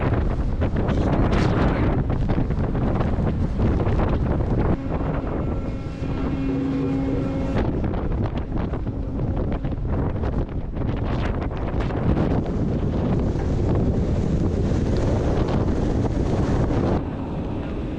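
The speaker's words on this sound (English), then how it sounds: "Waves hammering the bow." Strong wind buffets an anchored boat while waves pound its bow. Heavy, continuous rushing noise is broken by repeated thumps and surges throughout.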